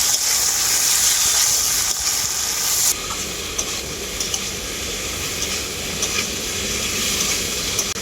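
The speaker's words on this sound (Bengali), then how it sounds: "এরপর আমি মশলাটাকে খুব ভালো করে কষিয়ে নেব তরমুজের খোসার সাথে" Watermelon rind is sautéed in a pan with turmeric, cumin, coriander and red chili powders, giving a loud, continuous sizzle with stirring scrapes; the hiss drops slightly partway through.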